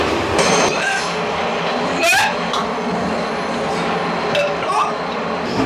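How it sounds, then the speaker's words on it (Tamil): Rumbling train noise on a trip to Colombo, Sri Lanka, with rattling carriages and faint squeals, continuous and fairly loud, with voices murmuring in the background. "ட்ரெயின் பயணம்"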